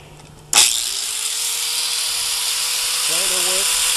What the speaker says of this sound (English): The grinder works just fine